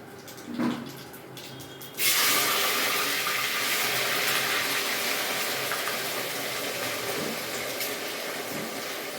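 Vegetables drop into hot oil already crackling with mustard and cumin seeds for a chilli bajji pulao. A sudden loud hissing sizzle follows and holds steadily close by, easing slightly over several seconds, with no talking.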